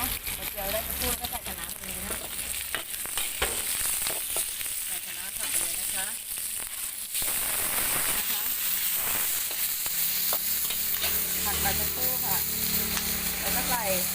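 Pounded garlic and chili stir-fry in hot oil as the first step of kale with crispy pork, giving a loud, continuous sizzle with crackles and stirring. Someone talks over the cooking throughout.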